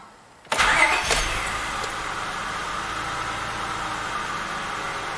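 A 2000 Acura 3.2 TL cranks briefly and catches almost at once after camshaft and crankshaft position sensor replacement, then settles into a smooth, steady idle close by.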